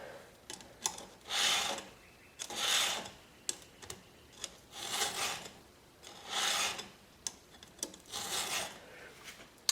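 A chainsaw chain cutter is sharpened with a hand file in a series of about seven slow, even, rasping strokes, each a close gritty swipe separated by brief pauses.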